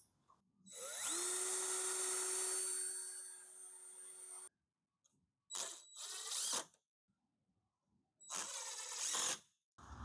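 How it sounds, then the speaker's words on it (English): A power drill whirs up to speed and drives into wood for a few seconds, followed by two shorter bursts of drilling after brief pauses. "I'm just going to drill this in there"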